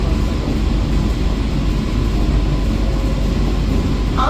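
A passenger train entering Naihati Junction produces a steady low rumble and rolling rattle of wagons on the rails, continuous and fairly loud from on board, with no speech over it.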